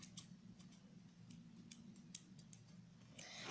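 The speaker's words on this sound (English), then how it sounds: "You can cut stuff with them." Repeated sharp snips of scissors cutting for miniature model work, irregularly spaced, over a steady low hum in the background.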